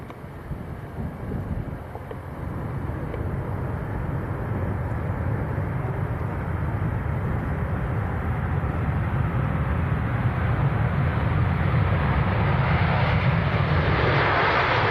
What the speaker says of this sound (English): First, this is the Qatar from Doha, A350-900. We'll watch this land